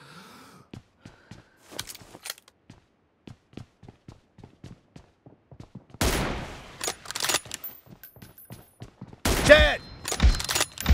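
Gunfire in PUBG Mobile team deathmatch: scattered sharp shots at first, then dense, loud rapid bursts in the second half, with occasional breathy voice sounds.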